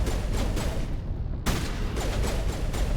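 Enemy rocket and weapon fire in the video game Mass Effect, a dense barrage of rapid, loud gunshot bursts that breaks off briefly and then resumes.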